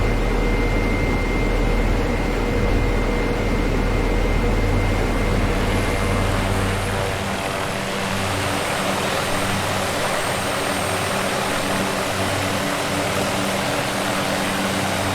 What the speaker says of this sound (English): let's go in on a nice powerful low pass over the airport here